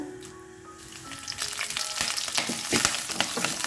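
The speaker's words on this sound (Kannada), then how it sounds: "ಇವಾಗ ಎಣ್ಣೆ ಕಾಯ್ದಿದೆ ಸ್ವಲ್ಪ ಸಾಸಿವೆನ ಸೇರಿಸ್ಕೊಳ್ಬೇಕು ಹಾಗೆಯೇ ಫ್ರೆಶ್ ಆಗಿರೋ ಕರ್ಬೇವಿನ ಸೊಪ್ಪು" Mustard seeds and fresh curry leaves dropped into hot oil, a quiet hiss that swells into busy crackling and popping spatters, growing denser and louder after the first second.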